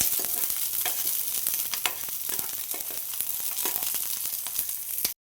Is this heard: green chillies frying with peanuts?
yes